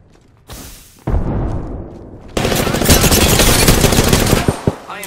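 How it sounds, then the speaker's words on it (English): Rapid automatic gunfire in the Apex Legends video game, loud and sustained in dense bursts, preceded by a short sharper shot and a brief lull, with in-game voice callouts faintly underneath. "Shots fired! And they're shooting me."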